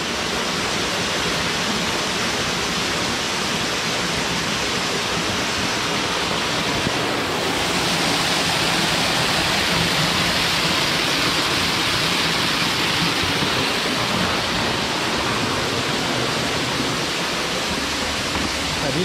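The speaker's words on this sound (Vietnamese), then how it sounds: "rồi trời thì đang mưa quá nhá này" Heavy rain pours down in a forest, a dense, steady hiss that stays loud and unbroken for the whole stretch, briefly rising in intensity partway through.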